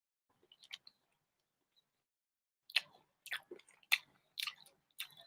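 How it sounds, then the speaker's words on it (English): Chicken wings are chewed close to the mic: a couple of soft bites, then a quiet pause, then a run of wet, crunchy chews coming in short bursts. "We chew chicken wings on this show"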